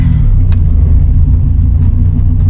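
Car engine rumbling from inside the cabin as it pulls away onto the road, a steady loud low drone with slight revving and no talk.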